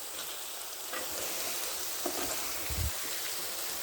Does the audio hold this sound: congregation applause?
no